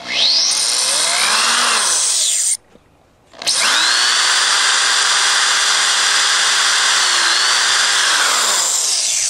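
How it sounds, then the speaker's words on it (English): Power drill fitted with a countersink bit boring into a wooden 2x4 for wall framing: two long, loud whining bursts near the microphone, split by a brief pause, the motor pitch sagging slightly as the bit bites into the wood. "I'm going to be using this countersink bit"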